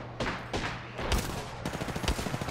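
Rapid gunfire from weapons in the video game Apex Legends, several overlapping bursts of shots rattling close and loud over about two and a half seconds.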